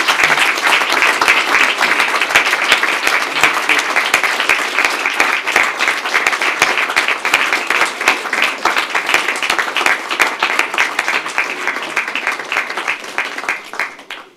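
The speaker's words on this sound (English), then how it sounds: "Big round of applause to everybody else." A large audience claps for an extended stretch at a surgical diplomates graduation ceremony, producing a dense, even wall of applause that tapers off near the end.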